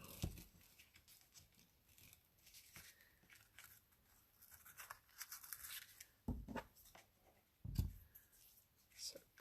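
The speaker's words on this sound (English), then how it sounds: "So cut the ends off." Scissors snip the loose ends off a tied ribbon on a Halloween treat box, a few quiet crisp cuts with soft rustling of paper and ribbon between them.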